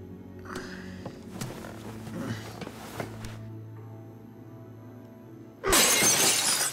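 Glass smashes loudly and suddenly in The Walking Dead: A New Frontier, a harsh bright burst that crashes in after a stretch of quieter game sounds and faint low rumbling.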